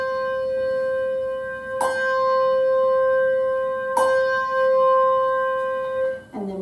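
Handbells rung in the regular way: three clear, bright strikes, each leaving a pure sustained tone that rings on steadily between hits, close and loud.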